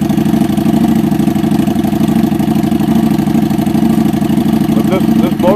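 Harley-Davidson Street 750 motorcycle idling outdoors on a cool morning, a steady loud low rumble running throughout with even rhythmic pulsing, up close.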